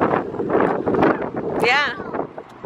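Strong gusts on a New York City street buffet the microphone in loud, rumbling bursts, with a brief whistling sweep partway through.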